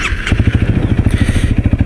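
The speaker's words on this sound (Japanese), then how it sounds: "エンジン音がなかなかいいんですよね。 すごくね心地よい音がします。" Honda CRF250L dual-sport motorcycle with a 21-inch front wheel and 18-inch rear, its single-cylinder engine running close by with a steady, rapid, even thumping pulse, heard alone without talk.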